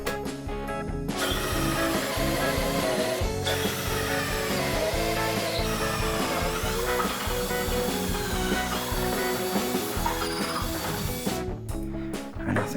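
A power drill whirs loudly and continuously, its motor pitch shifting as it bores holes for floating shelf brackets, stopping briefly near the start and again at the end.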